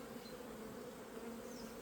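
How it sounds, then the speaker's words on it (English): Honey bees at an open beehive during a hive inspection hum in a dense, steady, close buzz that fills the whole stretch, with no talk. "I do see bees exiting over here."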